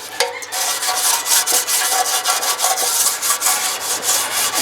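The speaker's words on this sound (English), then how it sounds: "I've got an old brush from the kitchen here, and I'm just going to go ahead and kind of give this up a once over." A kitchen brush scrubs old transmission fluid off a Ford F350 7.3 turbo diesel transmission, giving a steady, close, raspy bristle scrubbing in quick repeated strokes, loud and continuous with no talking.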